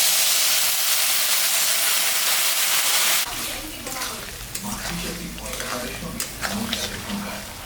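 Fig and potato curry with poppy seed fries in a pan, starting with a strong steady sizzle and hiss, then turning to scraping stirs and clinks of the utensil against the pan while a voice is faintly heard.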